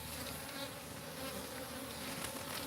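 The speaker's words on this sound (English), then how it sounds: "The bees are awesome." Steady, continuous buzzing of bees moving through a dense, overgrown tomato garden, a close swarm droning without pause and with no talk over it.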